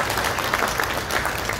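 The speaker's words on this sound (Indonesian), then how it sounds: "tepuk tangan Sekjen Partai." Audience applause for the secretary-general of the Labour Party at a political gathering: a dense, steady wash of clapping from a crowd, filling the short stretch on its own.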